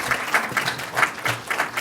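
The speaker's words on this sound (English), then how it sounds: "We'd like to thank Dr. Ravits for opening our Ask the Experts today with a big round of applause." A brief round of clapping from the audience at a San Diego expert Q&A session, with distinct, slightly uneven claps rising and falling over a couple of seconds.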